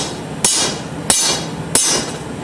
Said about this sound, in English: Give it a couple good whacks. Turn it over, make sure everything's nice and even.